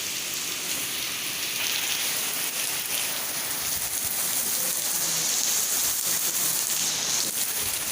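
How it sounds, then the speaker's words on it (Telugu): Heavy rain pouring down outdoors, a dense continuous hiss of drops pattering on surfaces, steady and loud throughout with no voices. "బయటికి చాలా వర్షం వస్తుంది"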